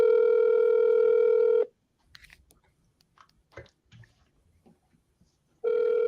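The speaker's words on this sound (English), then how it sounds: "we always call 2 to 3 times because agents love to not answer their phone" Outgoing call ringback tone while phoning a property agent: a long steady electronic ring, a quiet stretch with faint rustling and small mouth noises, then the ring starting again.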